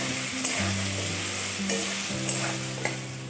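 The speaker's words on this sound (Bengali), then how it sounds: "লবণ আর হলুদ দিয়ে আলুটা খুব ভালোভাবে আমি ভেজে নেব" Potato pieces frying in hot oil with salt and turmeric, a continuous sizzle with occasional stirring scrapes of a spatula in the pan, close and steady, no voices.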